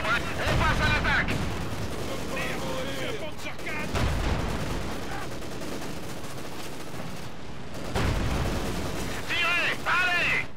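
Panzer IV tank cannon fire in Company of Heroes 2, heavy booming blasts at the start and again near the end amid a dense battle din of explosions and gunfire, with voices talking over it.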